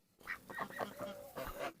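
A few farmyard poultry call out in a short burst of nasal honking, clucking sounds close by, overlapping one another at a low level with no talk.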